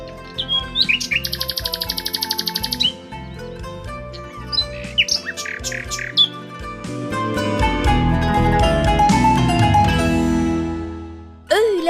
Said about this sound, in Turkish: Sadece rüzgarın ve kuşların sesi geliyor kulağımıza.